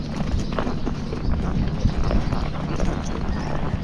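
A gaited horse under saddle during a training ride, its hooves clip-clopping in a quick, steady rhythm that falters partway through, close and fairly loud with faint background noise.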